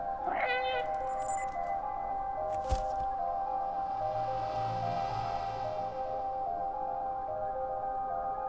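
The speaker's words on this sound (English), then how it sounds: "It was just one meow." A cat in the video game Stray gives a single clear meow near the start, over a steady tonal game music backdrop with a brief knock midway.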